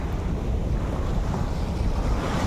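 Ocean waves and wind at the seashore form a steady, loud wash of surf with low wind rumble buffeting the microphone, continuous throughout with no voices.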